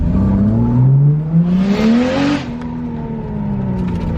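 A twin-turbo Nissan 370Z with its VVT solenoid unplugged drives under load, the engine droning loud and close as its pitch climbs steadily, then a rushing whoosh before the note settles into a lower steady hum.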